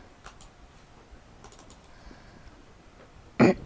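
A computer mouse gives a few faint, sparse clicks close by, then one sharper, louder click at the end, with quiet background and no talking.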